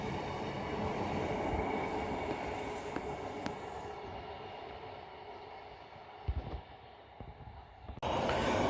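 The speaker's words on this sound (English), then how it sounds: "Train passing now is the 1939 Lancaster to Barrow in Furness, working 2 Charlie 47." A passenger train on the Lancaster to Barrow-in-Furness service rumbles steadily past up close, a continuous rolling roar with a few brief knocks near the end before a sudden louder surge.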